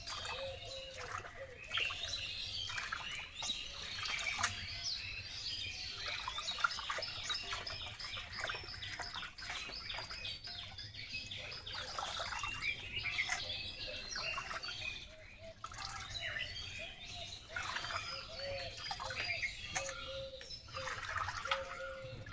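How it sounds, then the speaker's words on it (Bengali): Vegetables including greens, potatoes and bitter gourd being washed in water outdoors, a steady trickling and splashing running throughout, with birds chirping nearby in the background. "তো চলো আমি সবজিগুলো ধুতে থাকি"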